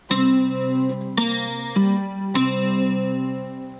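A twangy three-string cigar box guitar is plucked fingerstyle in a few ringing blues chords and notes, each strike sustaining before the next, close and clear.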